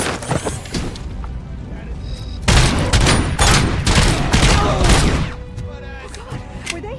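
Gunfire rattles through a firefight in the video game RoboCop: Rogue City, with dense bursts of shots and crashing impacts building to a loud volley in the middle, while voices speak over the action.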